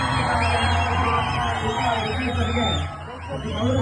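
A college crowd greets actor Duniya Vijay with loud, sustained cheering, whoops and yells mixed with clapping, a dense near roar that dips briefly before swelling again.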